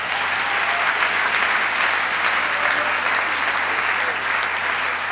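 A church congregation applauds to acclaim the Lord during a sermon, with loud, dense, continuous clapping that holds steady the whole time.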